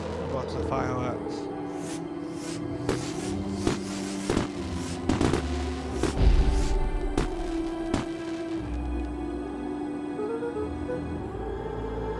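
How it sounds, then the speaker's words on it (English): Fireworks in the video game Beacon Pines pop and crackle in a run of sharp bursts, with a deeper boom partway through, all layered over a continuous game music bed. "Lots of fireworks."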